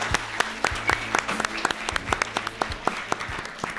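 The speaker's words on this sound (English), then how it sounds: "please, let's give them another round of applause" An audience applauds after a musical performance at a Juneteenth event, a few seconds of scattered, fairly sparse clapping at moderate distance.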